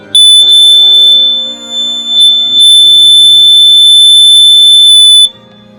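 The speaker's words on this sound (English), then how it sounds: "when I remove this carbon monoxide detector from the wall, it's going to start beeping extremely loudly" A carbon monoxide detector, removed from the wall, shrieks loudly and continuously at a high pitch, broken by a couple of short gaps, then cuts off near the end.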